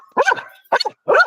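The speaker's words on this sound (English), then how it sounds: "I have to listen to the crazy dog." A crazy dog barks three times in short, loud yips with brief gaps between, close by and alone.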